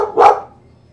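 A single sharp dog bark sounds close and loud, then quickly fades into near silence.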